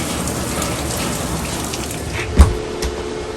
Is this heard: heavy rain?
yes